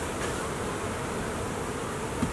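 Honeybees buzzing steadily at hives, a dense continuous hum of many insects that stays level and fairly close throughout with no talk.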